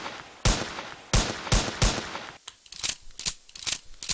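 Gunfire in a Call of Duty video game: sharp, loud single shots spaced irregularly, then a quicker burst of several shots, with no talk.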